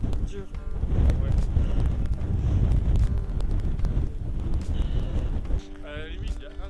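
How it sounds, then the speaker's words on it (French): Strong wind buffeting the microphone during a volcano ascent, a steady low roar with heavy gusty rumble, close and loud; people speak briefly over it. "vu que le vent, il va dans notre dos"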